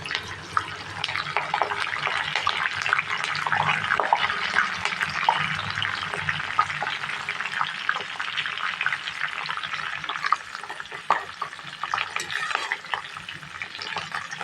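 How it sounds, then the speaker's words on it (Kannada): Garlic and curry leaves fry in hot oil for a flattened-rice (avalakki) dish, giving a steady, dense sizzle close by, broken now and then by soft clicks of stirring. "ಇದು ಎಣ್ಣೆ ಒಳಗೆಲ್ಲ ಫ್ರೈ ಆಗಬೇಕು."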